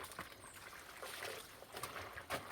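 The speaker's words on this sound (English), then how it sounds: "Look on the rinsing process now." Hand-washed clothes rinsed in a basin of water outdoors, with soft trickling, dribbling and splashing that rise and fall in a few brief surges, close and fairly quiet, with no talking.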